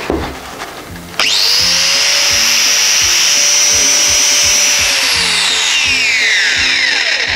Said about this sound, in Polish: Szlifierka działa